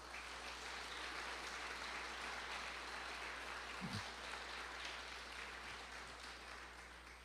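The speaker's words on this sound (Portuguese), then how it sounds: "Bate palmas para Jesus." A church congregation claps together in sustained, even applause that stays faint and distant, with a brief vocal sound near the middle.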